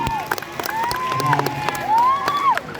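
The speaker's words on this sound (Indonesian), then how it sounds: "Tepuk tangan." Applause at a school student election ceremony at SMP Negeri 1 Pangkalan Kerinci, with scattered clapping from a crowd and a couple of rising and falling whistle-like tones over a steady murmur.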